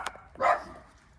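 A dog gives a single short bark, fairly faint and a little distant, with a quieter yip just before it.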